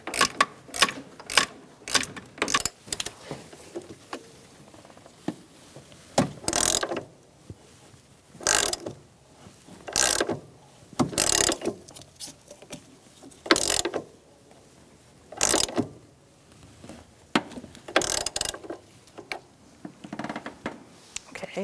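A hand ratchet clicks in quick bursts of repeated strokes, tightening the aluminum-housed transmission mount bolts on a 2012-2018 Ford Focus, close and crisp with short pauses between runs.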